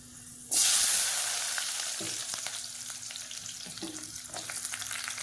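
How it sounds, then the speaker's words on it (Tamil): Fenugreek seeds and chopped shallots drop into hot oil with a sudden loud sizzle that settles into steady frying hiss, with a few stirring scrapes, close by and alone. "இப்போ இந்த எண்ணெய் காஞ்சதும் நான் ஒரு 1/4 ஸ்பூன் வெந்தயம் போட்டுக்கிறேன்."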